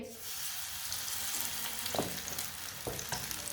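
Spoonfuls of batter go into hot oil or ghee, which sizzles and crackles in a steady wash, with a few brief splashy pops as more is added, heard close and alone.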